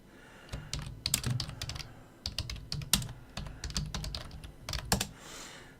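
Rapid typing on a computer keyboard, a close, irregular stream of key clacks in bursts with brief pauses, trailing into a soft rustle at the end.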